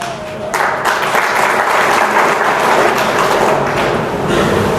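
Audience applause at a Rajasthan student political gathering: a dense, loud burst of clapping that starts abruptly and holds steady for several seconds with no talk over it.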